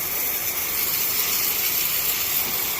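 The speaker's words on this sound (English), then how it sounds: "And then what I'm going to do is I'm going to spray a post treatment" A post-treatment solution is sprayed onto a wool area rug during rug cleaning, making a steady, close, even hiss that runs unbroken throughout.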